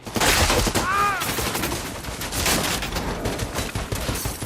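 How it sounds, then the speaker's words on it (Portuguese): Dense, chaotic gunfire rattles on without pause amid a loud, booming battle soundscape in the film The Book of Eli, shots overlapping from several directions. "E aí é uma grande batalha, tiro pra cá, tiro pra lá."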